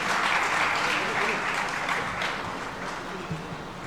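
An audience at a Jain religious gathering with Sudha Sagar Ji Maharaj applauds in approval, a steady, dense wash of many hands clapping close up that slowly thins and fades over a few seconds.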